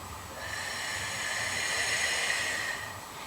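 A long, steady breath exhaled during a slow foam roll along the IT band, a continuous airy hiss held for about three seconds with no talking.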